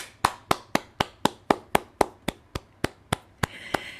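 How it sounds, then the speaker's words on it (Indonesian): Slow, evenly spaced hand claps, about fifteen sharp strikes at a steady beat, close and distinct, at a church worship gathering's birthday greeting for Ibu Diana. No talk. "Bapak Ibu, kita beri tepuk tangan"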